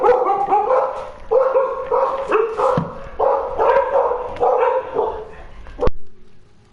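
Several dogs bark and yip in rapid, overlapping bursts, close and loud, with whimpering mixed in and the barking cutting off abruptly near the end.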